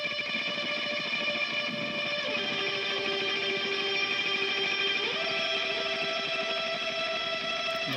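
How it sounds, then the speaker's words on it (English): A sustained electric guitar lead line with tremolo, soaked in heavy reverb and delay, held notes with a wavering shimmer, smooth and washy, no voices. "this is what the tremolo guitar sounds like, just a little simple lead line with a ton of reverb"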